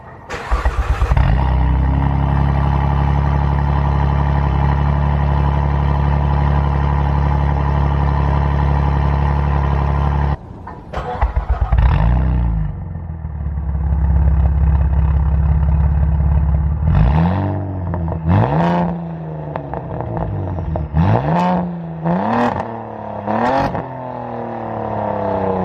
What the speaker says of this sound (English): On a cold start, my car is definitely too loud, and with the revs